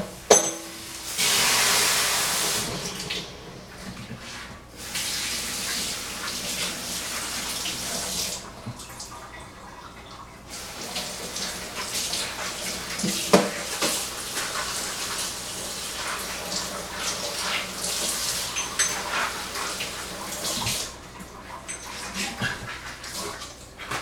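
Aeroccino milk frother rinsed under a running tap, a steady rush of water with splashing that shifts as the jug is moved, interrupted by short pauses, with a dog whimpering faintly in the background.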